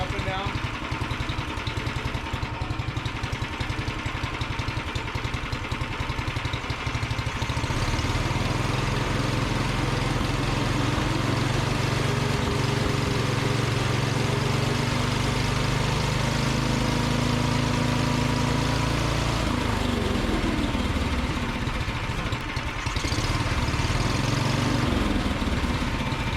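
A 420 Dingo compact machine's engine runs at idle, a loud continuous rumbling drone that shifts pitch and load partway through as the motor rocks, with a person talking over it.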